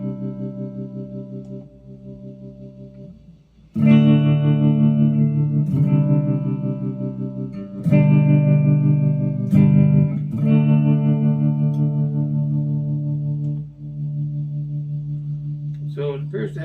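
Budget Gitafish electric guitar using its second vibrato setting: several strummed chords ring out with a pulsing, wobbling pitch, loud and close, each sustaining for a few seconds before the next strike.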